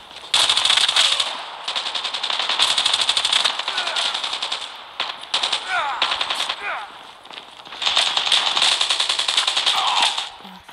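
Rapid automatic gunfire in the Call of Duty video game, loud and in dense bursts separated by short pauses, with a few single shots and brief game effects between them.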